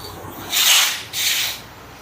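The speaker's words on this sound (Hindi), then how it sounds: "तो इसमें हम डालेंगे ये चेन क्लीनर" Chain cleaner is sprayed onto a Royal Enfield Guerrilla 450 drive chain in two short, close hissing bursts, one after the other.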